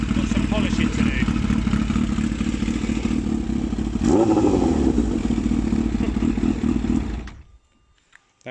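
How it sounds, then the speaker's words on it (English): A Kawasaki Ninja H2 motorcycle idles loudly and close, its engine giving a small throttle blip midway that swells and falls before the engine cuts off and everything goes quiet. "That was a tiny little blip of the throttle."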